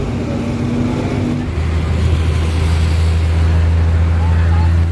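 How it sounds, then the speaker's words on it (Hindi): Road traffic in Lahore heard from inside a moving vehicle, a steady loud low engine drone and road rumble throughout, with a deeper hum settling in after the first second and faint distant horns. "लेकिन ट्रैफिक साथ नहीं दे रही"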